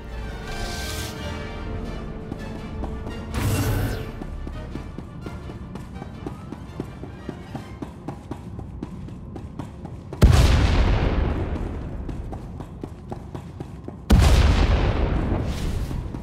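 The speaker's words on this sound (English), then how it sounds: "Prepare to fire weapon on my command." Spaceship weapons in the video game SWTOR fire in a few heavy booming blasts, each loud and decaying slowly, spaced apart over a steady rhythmic tapping background.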